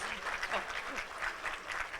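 Audience applause at a quiz event fills the hall, a steady patter of many hands clapping, moderately loud and continuous with faint murmurs mixed in.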